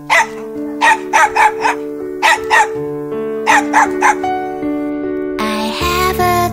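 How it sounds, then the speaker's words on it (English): Cartoon dog barking in short repeated bursts over a steady musical backing, three clusters of sharp yips spaced across the passage, loud and close. "I have a dog, his name is Bobo"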